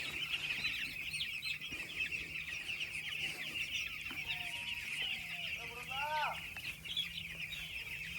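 Chickens cluck softly on a village poultry farm, with a few clearer rising calls and faint bird chirps over a steady background.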